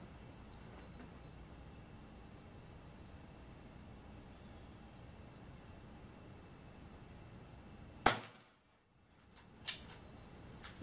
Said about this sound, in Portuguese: Terceiro disparo, rifle Destroyer.